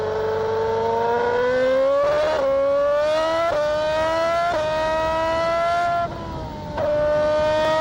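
A 2007 Honda RA107 Formula One car engine screams at high revs at Silverstone, rising in pitch through each gear with quick shift breaks, loud and close from onboard.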